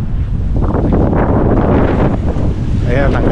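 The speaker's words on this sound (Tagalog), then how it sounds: "lakas na naman ang hangin" Strong wind buffeting the microphone at a marina in Cancun, Mexico, a loud, continuous rumbling roar with gusty swells and lapping water beneath, and a faint voice near the end.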